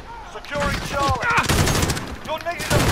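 Rapid automatic gunfire from a high-ammo weapon in a video game, loud bursts layered with game sound effects and a voice talking over it.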